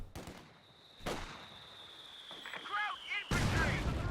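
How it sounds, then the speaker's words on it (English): Mortar fire in Company of Heroes 2, with a sharp launch thump and then a heavy blast as the rounds land in a 1v1 match on the Frost map, one burst near the start and a louder blast near the end over steady battlefield ambience. "Oh, mortar did the job"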